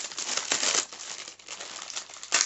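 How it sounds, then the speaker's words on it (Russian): Packing tape on the box of a Teclast X98 Air 3G tablet is peeled open, giving close, loud crinkling and tearing bursts, with a short pause midway and a final rip. "Здесь такая лента. Сейчас мы ее просто откроем."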